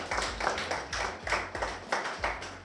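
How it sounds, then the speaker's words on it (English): Audience applause at a live event, heard as a short burst of a few hands clapping in loose rhythm, fairly close and moderately loud, with no talk over it. "Let us give her a round of applause."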